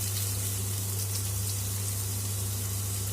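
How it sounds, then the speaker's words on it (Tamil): Chopped onions sautéing in hot oil with popped mustard seeds for Tamil prawn thokku gravy, a steady close sizzle and crackle with no pauses, accompanied by a low constant hum. "வெங்காயத்தை போட்டு வதக்கணும் வெங்காயம் பொடியாக இருக்கணும்"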